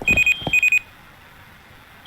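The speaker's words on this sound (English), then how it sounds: "so there's your alarm, right?" Raid alarm in the video game Rust, sharp electronic beeps in quick bursts of four, a pause, then the beeping starting again, with no talking.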